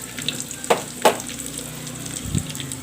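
Garlic, ginger and shallots sauté in hot oil for a beef pickle, a soft steady sizzle broken by a few sharp stirring scrapes close by.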